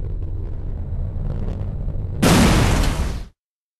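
Artillery strike called in with Strogg trinoculars in Quake Wars: a sudden, loud, broadband explosion bursts in over a low rumbling battlefield background, roars for about a second, then cuts off abruptly.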